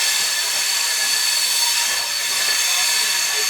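A passenger train on the Konkan railway rolls along with a steady, loud broadband rush and hiss of wheels and carriage noise, constant throughout with no distinct clacks standing out.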